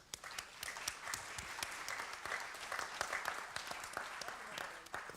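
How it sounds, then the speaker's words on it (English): Steady applause from a crowd, dense clapping that holds throughout at a moderate distance with no pauses. "I would like please to ask for a little round of applause for the people that are there"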